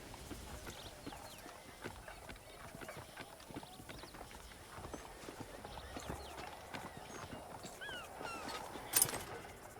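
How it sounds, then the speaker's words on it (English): Horses in the video game Red Dead Redemption clop along with quick, uneven hoofbeats at moderate distance, a soft running patter of steps with a brief louder burst near the end. "Do you see those horses to the left by the building across the street?"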